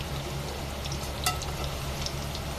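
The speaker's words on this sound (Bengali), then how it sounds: "এই যে দেখেন আমাদের চিকেনগুলো কত সুন্দর করে ভাজা হচ্ছে।" Chicken fingers fry in a pan, a soft, steady sizzle with scattered pops and faint stirring close by, with no talk.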